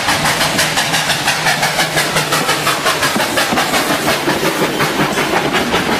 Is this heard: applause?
no